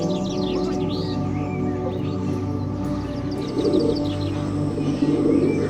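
Birds chirp and sing, with pigeons or doves cooing, in a garden in the early morning among blooming jasmine; a steady, lively chorus of calls carries on a light breeze, with no voices.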